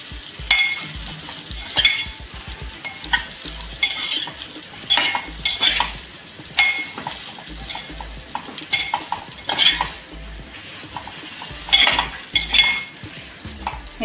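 A spoon scrapes and clinks against a pan while boiled yam and chillies are stirred, in irregular bursts over a soft sizzle with no talking.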